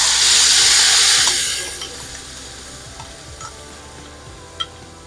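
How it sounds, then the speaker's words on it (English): Curry leaves and masala hit hot oil in a loud burst of sizzling that fades to a quieter crackle, with a few small clinks; cooking for Guyanese kalonji stuffed with spiced turkey. "that sizzle was really, really powerful"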